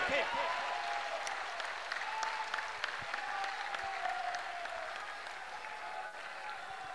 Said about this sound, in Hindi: जोर से एक बार इस युवा देशभक्त धर्म भक्त के लिए ताली बजाइए